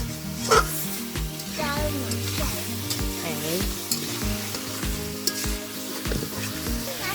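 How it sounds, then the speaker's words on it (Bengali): Beef and potatoes browning in a pan for beef bhuna khichuri, a loud close sizzle with stirring scrapes over a tonal background hum, with faint barking-like noises mixed in. "মাংসটা ভাজা ভাজা করতেছি সুন্দর করে আলু দিয়ে সুন্দর করে ভাজা ভাজা করে"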